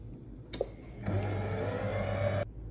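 A Monsieur Cuisine Connect food processor kneading gözleme dough, starting with a brief click, then running with a steady motor whir and hum for about a second and a half before stopping abruptly.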